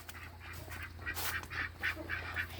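Ducks quacking in a homestead duck run beside a chicken coop, a steady series of nasal calls repeating at close range with no voices.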